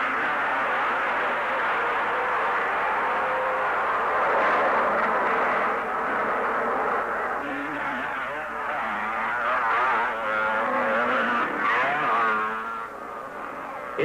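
Motocross motorcycles in a 250cc race, engines droning and whining continuously at moderate distance, with rising and falling pitch as bikes accelerate, plus a faint crowd or commentary murmur underneath.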